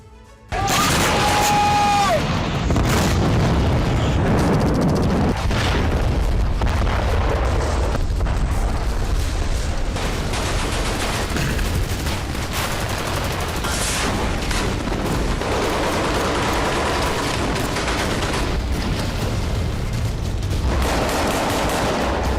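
Explosions and bursts of gunfire in the Gaza war, a dense, continuous barrage of loud booms and crackling shots that runs for the whole stretch with no pauses and no voices.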